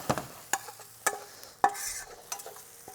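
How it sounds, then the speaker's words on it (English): Shallots being stirred in a pan with butter nearby, a few distinct scraping stir strokes at steady intervals over a soft sizzle, close and moderately loud. "So our shallots, giving them a stir."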